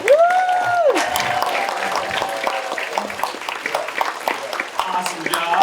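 Applause at a special needs talent showcase, moderate crowd clapping behind a host's amplified voice, with a sustained tone at the start.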